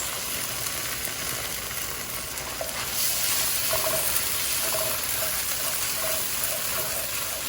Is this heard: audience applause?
no